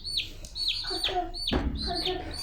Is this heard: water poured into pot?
no